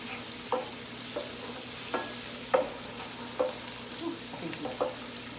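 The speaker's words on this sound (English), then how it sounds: "I'm just going to let this cook for about 10 minutes" A vodka sauce simmers and sizzles in a pan with a steady low bubbling, as a spoon stirs with soft, regular scraping taps about every second.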